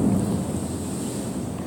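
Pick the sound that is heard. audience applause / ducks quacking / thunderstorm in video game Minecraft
thunderstorm in video game Minecraft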